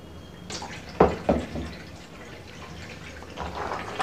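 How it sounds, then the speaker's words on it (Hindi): Water is poured over apricots in a hostel kitchen to wash them, giving a few splashy drips and trickles, with two sharper splashes early and a softer pour later. "अभी हम इसको थोड़ा सा पानी लगाएंगे"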